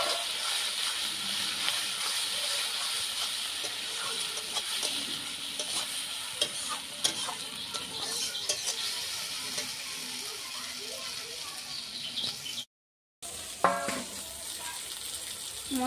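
Red chili masala paste fries in oil for a desi chicken curry, a continuous close sizzle and hiss broken by repeated scraping stirs, with a brief silent gap near the end.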